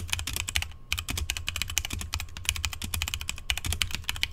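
Typing on a HyperX Origin mechanical keyboard with red switches and custom keycaps, a rapid, steady stream of close, crisp clicks and clacks with brief pauses, heard alone.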